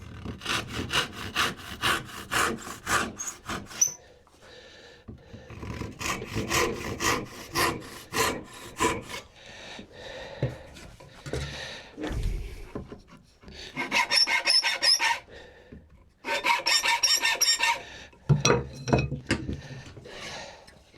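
Hand rip-sawing of wood with a back saw, rapid rasping strokes coming in several close, loud bursts separated by short pauses, with no talking.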